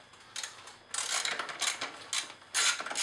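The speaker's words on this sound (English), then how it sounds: "So to get started, you remove the upper T45 on the rear set." A ratchet loosens the upper T45 bolt on the rear set of a 2010–2014 BMW S1000RR, giving several close bursts of quick, crisp clicking with short pauses between strokes.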